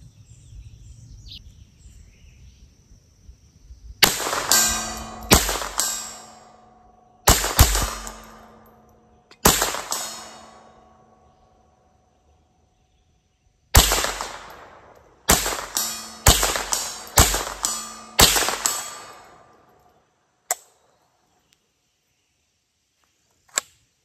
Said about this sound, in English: right now I'm just gonna blast off a few rounds